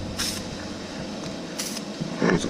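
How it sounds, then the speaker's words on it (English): Short hissing bursts from a can of base-coat spray paint in a test spray for car touch-up, two quick sprays with a faint clink and a rustle near the end. "Do a test spray."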